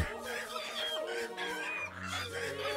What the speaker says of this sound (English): Like these chickens are trying to get away.